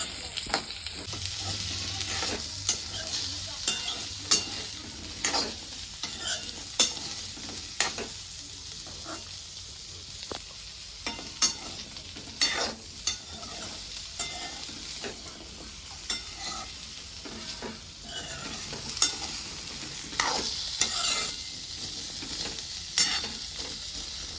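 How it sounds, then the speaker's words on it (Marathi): Grated carrots fry in ghee while a spoon stirs them around the pan, a constant close sizzle broken by frequent scraping strokes over nearly half a minute. "मी गाजर यात तुपावर हलवून घेतलेलं आहे"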